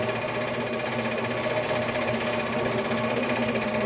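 A metal lathe cuts straight down through a mounting puck, producing a steady, loud mechanical whir with a constant hum and no talk.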